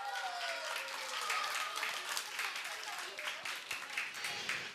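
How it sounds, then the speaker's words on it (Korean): A church children's congregation claps together in a lively burst of applause that stays dense and even throughout, with voices mixed in. "박수!"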